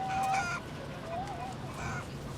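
Urban hens in the Brooklyn Grange coop give a few short, soft clucks and calls at moderate distance over low background noise.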